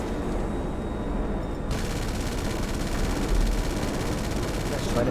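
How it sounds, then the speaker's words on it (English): Rapid missile and gunfire volleys in the Air Freight Cargo video game, a dense continuous barrage of bursts that stays loud and close throughout, with no pause. "Look how good these missiles are."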